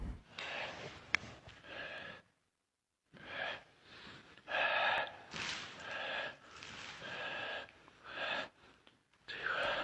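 A man breathes heavily in a crematorium, drawing repeated ragged, raspy breaths in uneven bursts with one short pause, faint and close.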